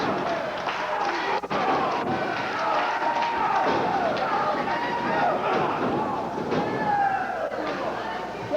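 Arena crowd at a 1990 professional wrestling show cheering and shouting for the Texas Knights, a continuous lively roar with a commentator talking over it throughout.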